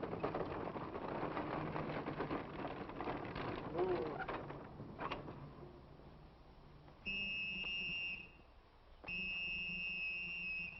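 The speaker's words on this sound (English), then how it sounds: "stop blowing that whistle" A whistle blown in a 1952 western film gives two sustained, shrill, steady blasts, each about a second or more, that ring out over quiet background noise after a stretch of faint, muffled sound.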